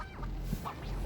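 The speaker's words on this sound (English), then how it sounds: "We're waiting with the seagulls." Seagulls calling at a ferry landing while people wait to board, harsh honking cries rising over a steady low background rumble, fairly close and continuous.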